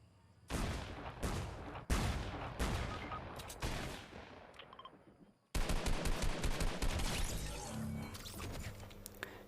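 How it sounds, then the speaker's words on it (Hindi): Rapid bursts of gunfire in a battle royale shooter, dense automatic shots rattling continuously with a brief pause midway, loud and close throughout. "कहीं से तो गोलियों की आवाज़ आती है"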